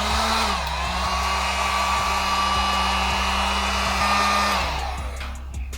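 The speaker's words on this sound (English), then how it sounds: "We're gonna go ahead and heat the tape with my heat gun here." A heat gun blows steadily on reflector tape, a loud, constant whirring hiss with a low motor hum underneath. Its pitch shifts slightly near the start, and it winds down at the end.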